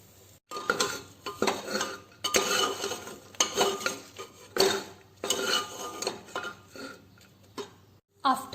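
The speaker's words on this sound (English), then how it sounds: "We will dry roast them without using any oil." Mixed lentils and powdered spices are dry roasted in a pan with no oil, giving a run of close, irregular scraping and clattering strokes of a spatula against the metal, separated by brief pauses.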